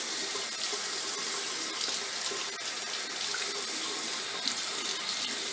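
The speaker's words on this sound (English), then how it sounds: "Let me rinse it off." A razor is rinsed under a running tap, giving a steady, close hiss of splashing water that holds unbroken for several seconds.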